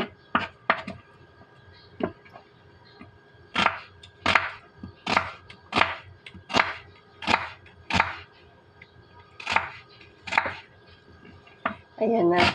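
A knife chops through an onion on a board in steady, sharp strokes about one per second, close and distinct, with faint background hum between cuts.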